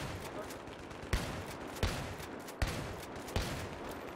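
Battlefield gunfire rattles through a steady fusillade, with four sharper shots cracking out at regular intervals over a continuous din of weapons fire.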